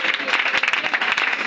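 A church congregation applauds during a deliverance prayer service with dense, rapid, continuous clapping close by, blended with crowd voices and a speaker's voice underneath.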